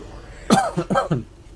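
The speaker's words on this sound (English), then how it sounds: "Excuse my rank cough." Two or three rough coughs in quick succession, close up, followed by quiet.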